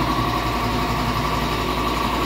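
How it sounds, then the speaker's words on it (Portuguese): A loud, constant mechanical drone of an air compressor in a car repair shop, with a steady low throb, running without pause. "Desculpa do barulho, o compressor de ar tá ligado."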